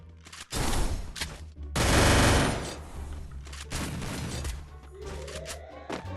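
Gunfire in a shooting video game: loud, dense bursts of automatic fire come close together, each lasting about a second, with a rising whine near the end.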